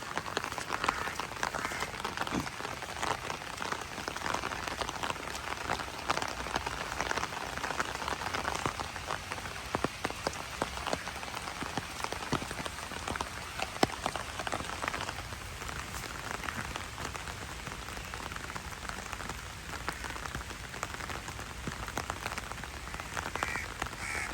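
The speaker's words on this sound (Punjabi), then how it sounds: "ਜੋ ਮੀਂਹ ਹੁਣ ਸਪੀਡ ਫੜੀ ਜੀ ਫੇਰ ਦੁਬਾਰੇ ਚੱਲ ਪਿਆ" Heavy rain pours down steadily, a dense hiss of drops hitting surfaces throughout, with no voices.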